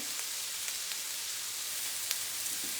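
Vegetables for cauliflower rice pilaf sizzle in a hot pan, a steady, even crackling hiss with small pops, close and moderately loud, with no talking.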